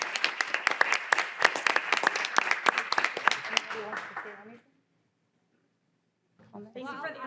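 Audience clapping at a board of education meeting, a sustained round of applause that fades to silence before someone begins speaking.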